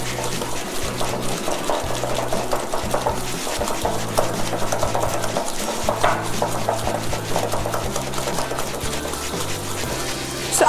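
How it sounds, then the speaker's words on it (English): A cake batter is whisked by hand with a wire whisk in a bowl, giving a steady, continuous rhythmic swishing and light clinking close up, with a low music-like hum beneath and no talking. "Continue whisking it till it becomes light and creamy."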